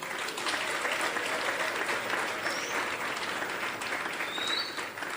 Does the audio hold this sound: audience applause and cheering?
yes